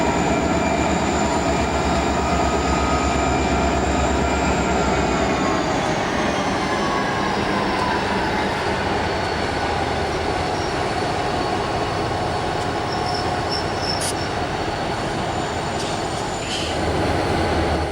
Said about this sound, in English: An eastbound heads out of Roseville with an SD60M, an SD40-2, and a Chicago Northwestern -9